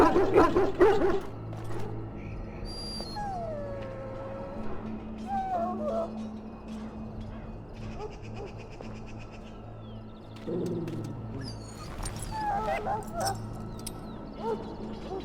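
Dog in Dragon Age Origins giving short whimpers and yelps amid game ambience, with voices talking over scattered sound effects.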